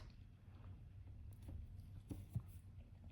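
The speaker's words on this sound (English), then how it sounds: "do you hear that? It's raining. It is sunny and it's raining." Light rain falls on a sunny day, a soft, steady patter heard faintly in the distance with no talking.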